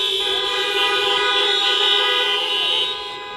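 Car horns honking from an audience at a BREAD Nehemiah Action assembly, a sustained, loud, steady blare of several overlapping horns lasting the whole moment before tapering slightly at the end, with no talk.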